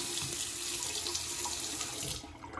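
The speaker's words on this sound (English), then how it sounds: "I'm gonna go ahead and turn this on so you guys can see the stream of the water" A Glacier Bay Oswell two-handle high-arc kitchen faucet runs in a steady, hissing stream of water close by, then cuts off abruptly near the end.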